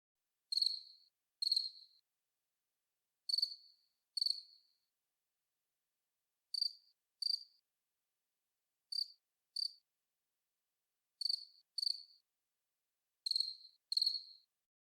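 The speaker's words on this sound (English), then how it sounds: "cricket sound controlled by temperature and time of the day" Synthesized cricket chirping for game audio, with pitch and rate set by temperature: paired bright chirps repeat at a steady rhythm, about every one and a half seconds, clean and isolated against total silence.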